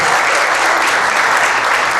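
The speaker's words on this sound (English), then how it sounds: "One final round of applause in keeping with our sports theme for the critical players on the field." A crowd at a regional issues summit applauds loudly and steadily, a dense wash of clapping filling the whole moment with no pauses.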